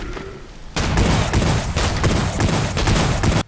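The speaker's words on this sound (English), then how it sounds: "An interesting variant is a 3-barreled revolver." Rapid volley of three-barreled revolver gunfire in WRATH: Aeon of Ruin, loud, dense overlapping blasts for about three seconds and then an abrupt stop, with no talking.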